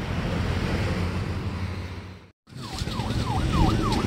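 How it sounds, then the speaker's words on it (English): An emergency vehicle siren wails past a covered bridge festival, rising and falling in repeated sweeps that grow loud after a brief dropout, over steady traffic and crowd noise. "I want to watch the siren go by."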